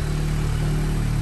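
A VW Golf R with an APR Stage 2 downpipe, running its original exhaust and resonator, gives a steady mid-pitched exhaust drone at idle or low revs, close and loud with no talking.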